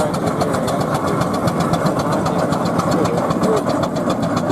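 A model steam traction engine runs close by with a steady, even, rhythmic chuffing and mechanical knocking that holds at a constant loud level throughout, with no voices over it.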